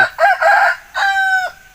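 A young rooster crows nearby, a short, cracked two-part call that rises and then trails off, clear and loud against quiet surroundings.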